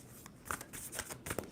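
Tarot cards are shuffled quietly in a few quick riffling bursts, close and soft, ending with a sharper snap.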